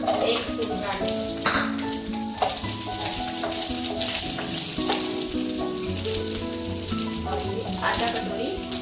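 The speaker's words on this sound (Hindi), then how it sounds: "ऑयल थोड़ा गर्म होने देते हैं और उसमें डालते हैं गार्लिक, 1 स्पून गार्लिक" Garlic frying in hot oil makes a steady crackling sizzle that runs throughout, with light stirring noises and a melodic music bed playing underneath.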